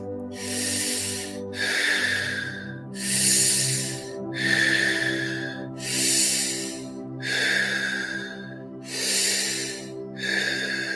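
Deep conscious breathwork: slow, loud, close breaths in a steady cycle of about seven rushing airy inhales and exhales, each lasting roughly a second, over a soft sustained musical drone.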